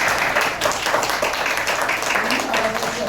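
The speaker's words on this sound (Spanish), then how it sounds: "Y un fuerte aplauso ahora mismo." Steady, dense applause from a seated audience at a literary and art gathering, continuous and fairly loud for a few seconds, with voices murmuring underneath.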